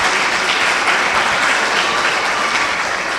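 Steady, dense applause from a church congregation during a Pentecostal service, loud, continuous and unbroken for the whole stretch.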